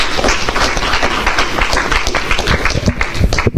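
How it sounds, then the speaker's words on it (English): An audience at a Madison startup-pitch event on sustainable kitchens gives the speakers a round of applause, loud close clapping with distinct individual claps throughout. "Let's give them a round of applause for today."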